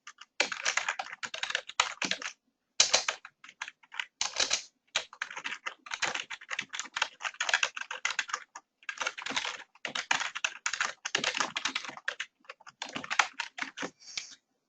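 Feedback comments are typed on a computer keyboard into Moodle in long, steady runs of close, crisp key clicks, broken by brief pauses, with no one talking.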